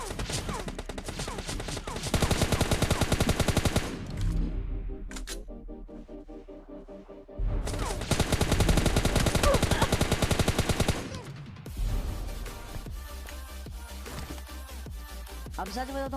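Rapid automatic gunfire in the mobile battle-royale game Free Fire during a solo-versus-squad rush match, loud sustained bursts broken by short pauses, with busy game audio between volleys.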